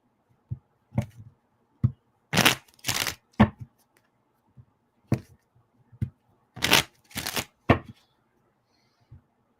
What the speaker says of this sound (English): Y'all sat there and watched me shuffle the crap out of these cards.